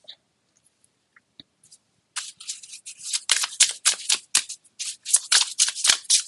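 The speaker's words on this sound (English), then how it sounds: "These shuffle so nicely, these cards." Deck of cards shuffled by hand, starting after a near-silent pause with a quick run of crisp riffling flutters and snaps, close and fairly loud.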